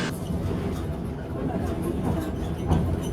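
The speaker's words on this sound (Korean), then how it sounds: "열차는 어김없이 제 시간에 출발을 하고" A Trans-Siberian train pulling out, its low steady rumble and rolling rail noise filling the space, with faint chatter from passengers underneath.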